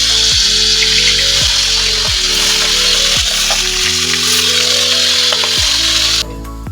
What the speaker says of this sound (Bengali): ভাজার জন্য মাছগুলো দিয়ে দিচ্ছি।